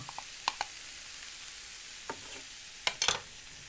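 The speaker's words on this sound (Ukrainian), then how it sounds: "І будемо смажити." Food sizzles in a hot pan with a steady hiss, broken by a few clinks and scraping sounds of stirring.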